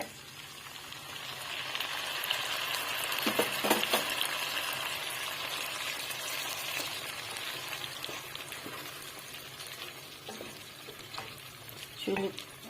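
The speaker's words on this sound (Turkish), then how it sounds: "Bir de domates sosu dökeceğim şimdi" Tomato sauce goes into a hot pan with sizzling meat, giving a soft continuous frying crackle with stirring scrapes and a few sharper clinks, moderately close and without speech.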